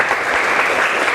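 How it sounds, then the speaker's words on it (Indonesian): A classroom of students gives a student a brief, steady round of applause, dense and close, filling the whole moment. "Tepuk tangan dong buat Aulia"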